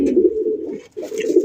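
Coloured Rajgolla pigeons coo close by, two throaty rolling coos separated by a short gap.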